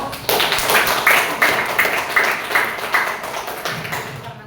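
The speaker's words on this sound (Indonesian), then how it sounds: "Tepuk tangan dulu untuk kelompok." Classroom applause for a student group after a software engineering project presentation: a room of hands clapping steadily and close for about four seconds, slightly uneven, fading a little at the end.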